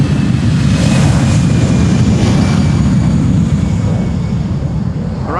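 A Compass Air Cargo jet on its takeoff roll at the Polderbaan runway in Amsterdam, a loud, steady broadband engine roar that holds constant throughout with no voices.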